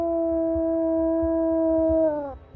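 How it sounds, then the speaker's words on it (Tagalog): A dog howls at night, one long sustained, steady tonal howl held close and loud, then sliding down and breaking off near the end. "nagsimula na namang umalulong ang mga aso"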